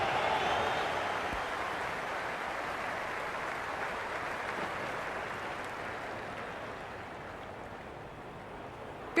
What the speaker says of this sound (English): It's evident the crowd is at near bursting point at today's play.